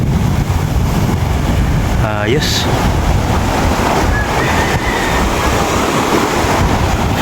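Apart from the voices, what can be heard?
ocean waves crashing on rocks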